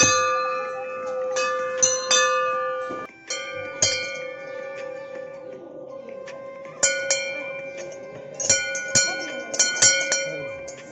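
A temple bell is struck again and again, bright metallic clangs in irregular bursts with a long ringing hum between strikes, and voices nearby.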